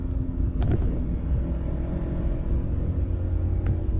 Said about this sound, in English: Let's take it for a quick drive onto the highway.